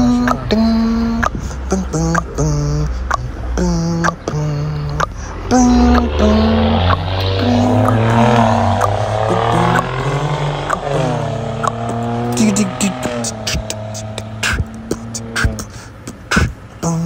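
A car drives and turns during a first driving lesson, its engine hum and tire noise running steadily beneath nearly continuous close conversation inside the cabin.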